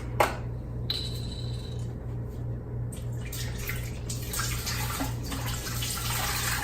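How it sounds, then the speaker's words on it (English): Fat-free chicken stock pours into a warm soup pot for mini meatball soup, a steady liquid splashing with a sharp clink at the start and some bright rattles along the way. "I'm just going to go ahead and add my chicken stock to this."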